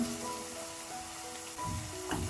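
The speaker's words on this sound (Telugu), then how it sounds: "ఇప్పుడు ఈ క్యారెట్ అంతా పచ్చివాసం పోయి బాగా ఫ్రై చేసుకోవాలి క్యారెట్ మెత్తబడేంత వరకు ఫ్రై చేసుకోవాలి" Two medium grated carrots fry in a pan with a soft, continuous sizzle and crackle, fairly quiet and steady, with some faint background tones and no speech.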